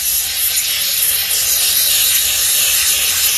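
An aerosol can of expanding foam adhesive is sprayed into a hole in a root cellar, giving a loud, steady, continuous hiss close to the microphone with no speech.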